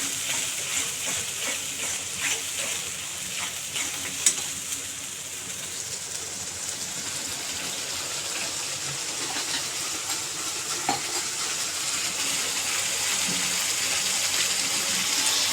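Tomato puree frying in oil in a pan for paneer butter masala, giving a steady broadband sizzle with faint stirring clicks that continues evenly throughout and swells slightly toward the end.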